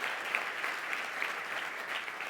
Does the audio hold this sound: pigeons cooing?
no